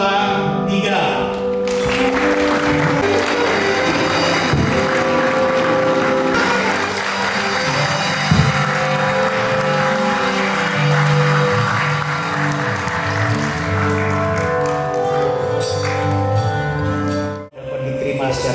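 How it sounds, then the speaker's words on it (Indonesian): Wedding guests at a church marriage blessing clap and applaud, with steady clapping running for a long stretch under loud music. "Keluarga jemaat akan memberikan aplaus dan bertepuk tangan"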